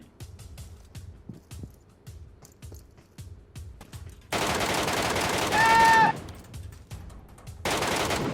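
Video game air gun firing in Metro Royale: a series of small pops is followed by two loud, sustained bursts of rapid shots, with a short electronic whine between them.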